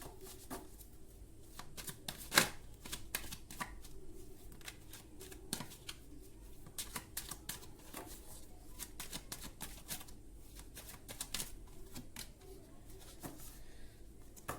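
Tarot cards are shuffled and laid out on a table, producing quiet intermittent riffles, flicks and soft taps close by in a hushed room.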